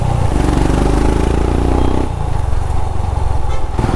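A 400cc motorcycle rides through city traffic, its engine a loud, continuous droning thrum with shifting revs, mixed with road noise and clatter close to the rider.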